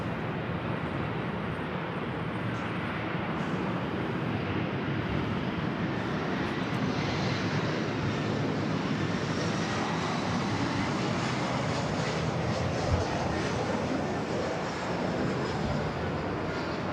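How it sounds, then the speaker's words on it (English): Jet airliners at LAX airport heard from the east side of the field, a continuous broad roar of engines that swells toward the middle and stays steady and fairly distant, with no talk. "picking up the sounds of the planes"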